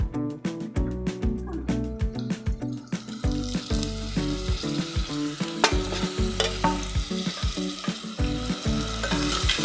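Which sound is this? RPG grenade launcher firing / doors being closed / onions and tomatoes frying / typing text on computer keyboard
onions and tomatoes frying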